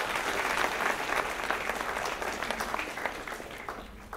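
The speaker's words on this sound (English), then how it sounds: "a big round of applause for them" An audience at a community celebration claps together in sustained, dense applause that holds steady and then eases slightly toward the end, with no talking over it.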